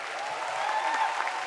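Theater audience applauding steadily, a dense wash of clapping at moderate volume that holds evenly throughout without voices.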